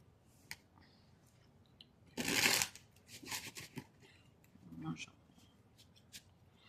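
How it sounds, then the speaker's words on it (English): Tarot cards are shuffled and handled close by, with a brief riffling burst amid soft clicks and rustles, while a person speaks quietly at moments. "Let me just give the cards a good shuffle here"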